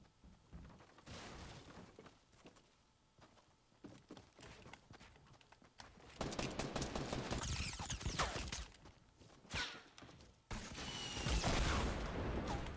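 Pistol gunfire in a video game, sharp bursts of shots coming in loud clusters over other game noise, intense in the latter half.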